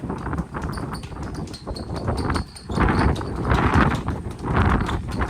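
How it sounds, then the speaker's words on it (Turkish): Hoof-like footsteps clop in a quick, irregular rhythm in a basketball club building, close and fairly loud, with no talking. "Şu ayak sesleri gelmeyecek bana."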